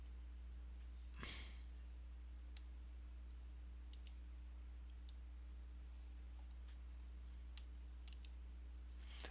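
Typing on a computer keyboard in a quiet room with a low electrical hum: a few sparse, faint key clicks and taps scattered across the stretch, with one louder burst near the start.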